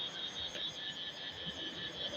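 Insects, crickets or cicadas, chirp in a thin, continuous high trill at low volume, steady over an outdoor background with no speech.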